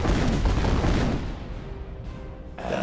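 Ship broadside cannon volley in Age of Wonders 3: a loud, rumbling cluster of booming shots rolling together for about a second, then fading into a lingering low rumble with a faint tail.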